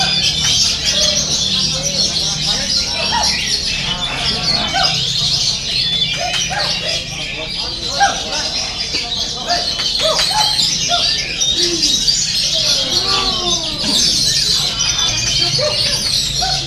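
Many songbirds, oriental magpie-robins among them, sing together at a kacer bird-song contest. Dense, overlapping chirps and whistles run continuously through the whole stretch over a steady crowd murmur.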